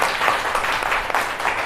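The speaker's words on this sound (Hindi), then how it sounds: "ताली बजाएंगे पहले अपने लिए एक बार" A class of students claps for themselves, a dense steady burst of many hands applauding together for under two seconds, fairly loud and close with no talk over it.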